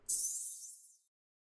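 A single open hi-hat sample, bright and sizzling, rings out for about a second in a FL Studio house beat before cutting off cleanly into silence.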